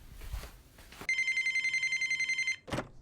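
A telephone rings indoors: a loud, close electronic ring of rapid repeated pulses lasting about a second and a half, set between quieter stretches of room noise and a brief clatter at the end, with no talk.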